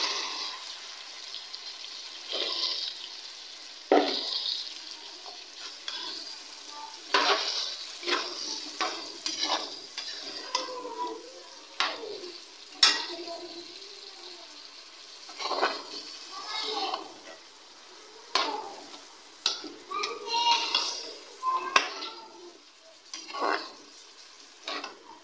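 Potatoes frying in a spice masala for an aloo palak methi sabzi, a soft sizzle broken by repeated scraping and stirring strokes of a spoon in the pan.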